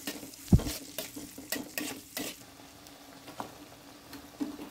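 Mutton with whole spices such as cardamom and cinnamon fries in a pan, a soft sizzle under scraping and clinking stirring strokes, with one sharp knock of utensil on pot.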